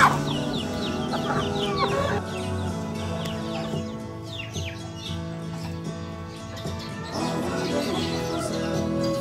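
Bangkok chickens on a poultry farm cluck and chirp in a continuous, fairly close chorus over a steady background hum.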